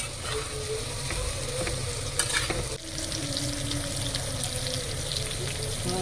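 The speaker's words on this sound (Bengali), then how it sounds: "আলু মাশরুম ভাজা হয়ে গেছে" Potato and mushroom crackle and sizzle in a pan, with occasional scraping stirs and a brief clatter partway through; no talking.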